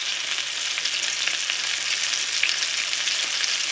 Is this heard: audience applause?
no